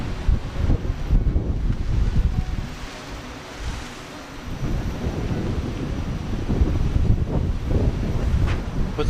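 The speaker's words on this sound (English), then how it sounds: "A little windy right now" Gusty wind buffets an outdoor microphone on a path, a loud, rumbling roar in uneven bursts with a brief lull partway through, no talking.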